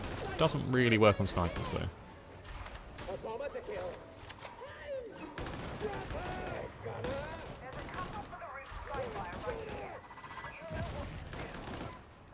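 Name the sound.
gunfire spraying suppressing enemies in Darktide video game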